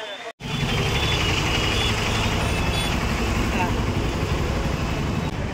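Busy Mumbai street traffic near Crawford Market by the Colaba side, a dense continuous roar of trucks, cars and buses with idling engines, after a brief dropout at the start, with voices mixed into the din.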